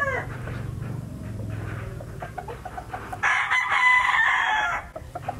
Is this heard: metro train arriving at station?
no